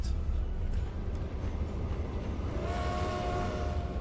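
Trains in the Transport Fever tycoon game rumble along with a steady low rolling roar, joined partway through by a faint sustained horn-like tone, with no talking.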